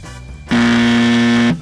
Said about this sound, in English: On the desk over here, we have two phones, each of which is a buzzer.